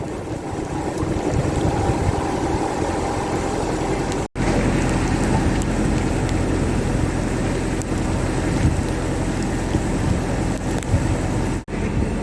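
A heavy downpour of rain mixed with hail comes down in a dense, continuous roar of hissing noise, loud and close, with no voices, and two brief drops to near silence along the way.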